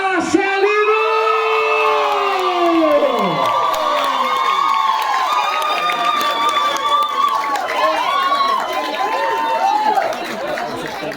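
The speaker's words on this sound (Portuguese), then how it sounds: "eu quero a vibração aí de toda a torcida" Crowd cheering and whooping for Marcelino, the winner of the 36th Corrida da Fogueira road race in Bom Conselho, Pernambuco, a loud, steady roar of many voices with shouts rising over it for the whole stretch, with voices talking inside the din.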